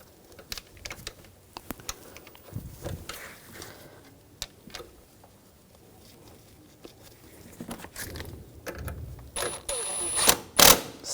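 Ratchet tightening a screw on the front forward upper control arm of a 2004-2009 Audi A4 Quattro: quick mechanical pawl clicks in short bursts, close and fairly quiet, growing louder and busier near the end.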